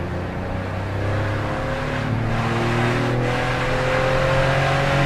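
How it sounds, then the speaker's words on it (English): Toyota Aygo with a 1-litre engine accelerating hard on a road, the engine note rising steadily in pitch and loudness over several seconds, heard from inside the car. "never seen an aygo accelerate this quick"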